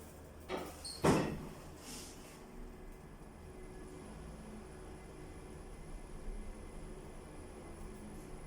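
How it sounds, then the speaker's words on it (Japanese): The door of a footbridge elevator at Totsuka Station slides shut near the start with a couple of brief clunks and a chime, then a quiet steady hum follows. "ドアが閉まります。"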